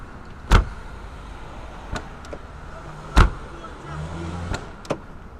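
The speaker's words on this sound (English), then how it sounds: "I'm gonna shut the door for you real quick so you can hear this" Heavy 1990s car door shutting with a solid clonk, two sharp loud thuds a few seconds apart amid quieter clicks and a brief low mechanical hum, heard close in a quiet setting.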